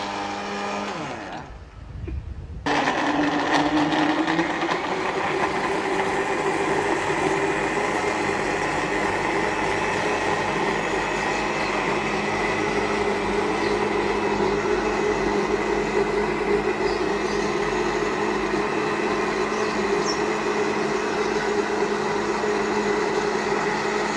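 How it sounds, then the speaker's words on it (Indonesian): Electric blender running steadily on red guava pieces with a little added water for juice, a loud continuous whirring motor drone that starts abruptly after a brief quiet moment and holds evenly to the end. "Setelah itu baru kita blender."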